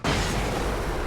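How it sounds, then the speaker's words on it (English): Flashbang grenade in the video game Alan Wake bursts with one loud, sudden blast. A dense roar sustains right after it. "Throw another flashbang."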